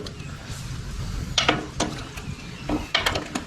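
A small socket adjustment wrench turns a bolt on a Harley-Davidson rear suspension being lowered, giving a few crisp ratcheting clicks over a steady background hum.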